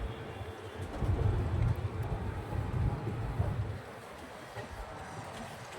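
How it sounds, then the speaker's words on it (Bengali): Rumble of a moving passenger train on a curve between Ayodhya and Prayagraj, a steady low roar from inside the carriage that swells and eases slightly. "ওই যে ট্রেন এখন আমাদের কার্ভ নিচ্ছে"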